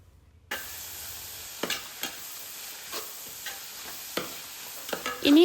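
Onions with salt sizzle gently in an aluminium pot, with a few soft, sporadic stirring scrapes over the steady hiss, close and fairly quiet, ending in a louder clatter.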